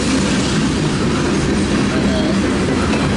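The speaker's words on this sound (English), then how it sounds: "that sound in the background is M422 about to be now" A CSX M422 mixed freight train passes Washington Grove Station with a loud, continuous rumble and rolling wheel clatter that fills the whole stretch.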